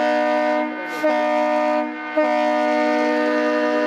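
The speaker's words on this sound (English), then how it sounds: "It's a train horn." A loud, sustained train horn blares a steady multi-tone chord near a high school football game, briefly dipping twice before sounding on without any talking.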